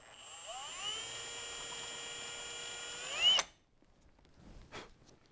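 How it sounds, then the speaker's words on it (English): A power drill whirs steadily for about three seconds while drilling a pilot hole in a BMW F87 bumper, rises to a brief higher-pitched whine, then cuts off abruptly into near silence. "just drill a pilot hole"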